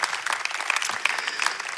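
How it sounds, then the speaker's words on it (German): A church congregation claps for God during a sermon, dense steady applause filling the room throughout with no voices over it. "Lass uns Gott für das einen Applaus geben"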